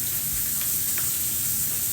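Chicken frying in a pan, a steady hiss and crackle of sizzling oil heard close up and alone.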